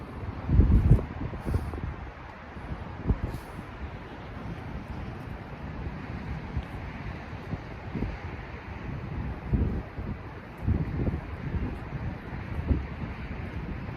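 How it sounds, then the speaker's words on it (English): Steady wind gusting across an outdoor workout spot, a broad continuous rush with louder buffets and low rumbling thumps against the microphone throughout. "Just waiting for this wind to ease up"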